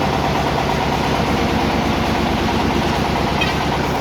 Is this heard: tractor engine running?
yes